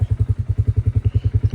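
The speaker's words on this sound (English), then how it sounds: "So I'm out here riding the four-wheeler still, and man, these dirt roads are horrible." Four-wheeler ATV engine riding over rough dirt roads, a loud, close, pulsing low rumble with a steady rapid rhythm of regular throbs throughout, no talking.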